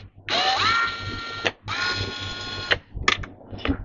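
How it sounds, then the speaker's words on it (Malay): An electric screwdriver unscrewing two screws while dismantling a Perysmith steam iron, two long whirring motor runs followed by short buzzing bursts, close and loud. "Buka dahulu dua skru tersebut."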